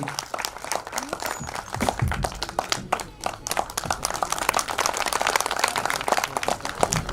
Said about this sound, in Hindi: एक बार जोरदार तालियां आजाद जी के लिए।